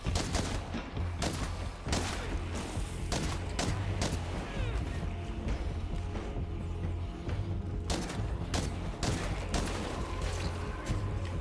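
Gunfire in the zombie survival game State of Decay rings out in repeated sharp bursts and single cracks, loud and close, spread irregularly over several seconds with rattling mechanical noise between shots.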